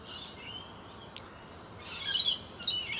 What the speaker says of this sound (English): you can hear birdsong in the background